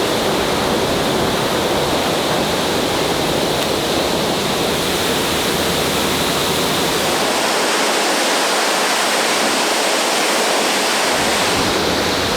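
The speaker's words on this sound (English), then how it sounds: "I'm just getting a bunch of wind from this geyser." A geyser blows air and water in a steady, loud, broadband roar that rushes on throughout. Briefly near the end the low rumble drops away.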